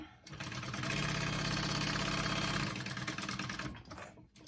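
Sewing machine stitching a quick basting line to close the flap of a hip bag, a fast, even mechanical whirr that starts abruptly, runs steadily for a couple of seconds, then slows and stops with a few final clicks.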